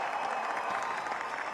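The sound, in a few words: audience applauding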